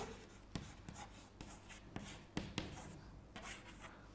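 Pen writing an address in the top right corner of a sheet of paper for a letter, heard as steady close scratching strokes with small taps as the pen lifts and lands, no talking.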